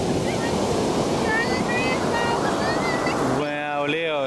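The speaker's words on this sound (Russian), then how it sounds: "Лео, как ты думаешь, океан приколен?" Ocean surf washes in a steady roar at Baker Beach, San Francisco, with wind buffeting the microphone; near the end a voice speaks over the waves.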